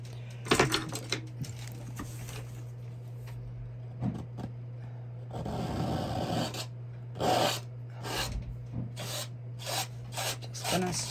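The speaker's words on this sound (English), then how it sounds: "I'm gonna scrape some of that off." Paint being scraped off a painting's surface with a tool, producing repeated rasping strokes in bursts, with a steady low hum underneath.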